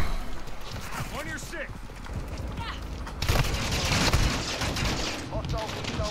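Mortar strikes and heavy gunfire in Call of Duty Modern Warfare II, with a dense barrage of booms and shots swelling loudly after a quieter opening, while voices talk throughout.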